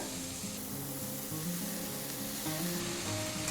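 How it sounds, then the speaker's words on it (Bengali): Washed shyama rice fries with softened potatoes in a pan, giving a quiet, continuous sizzle with light stirring scrapes throughout. "চালটাও একটু ভালো করে ভেজে নেব দু তিন মিনিট একটু কষে নিতে হবে"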